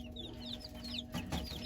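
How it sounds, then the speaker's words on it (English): Thin, rapid peeps from a large Jersey Giant chick being held in the hand, a soft scatter of high chirps close by with some handling rustle, no talking. "This one is a large chick, so it is probably one of the little Jersey Giants."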